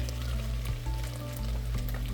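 A small splash of olive oil sizzles in a dry pot before onions go in for a beef stew, making a continuous close hiss with a low background hum and faint clinks.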